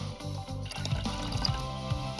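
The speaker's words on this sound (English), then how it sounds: "Add some water and a drop of green food dye." Water is poured into a cup of relish, giving a short, close run of liquid trickling and splashing over faint background music.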